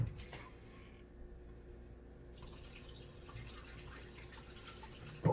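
Tap water running into a kitchen sink while lettuce is rinsed under it, a steady low wash of flowing water with faint splashes throughout, ending in a brief louder splash.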